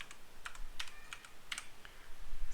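A name being typed into an Excel spreadsheet on a computer keyboard, a light, irregular run of close key clicks with small gaps between strokes, and nobody talking.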